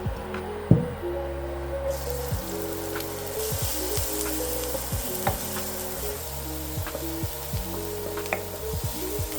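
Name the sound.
onion frying in a pan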